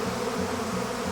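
Honey bees at a Corsican beehive hum in a dense, continuous close-up buzz with gently wavering pitch and no voices.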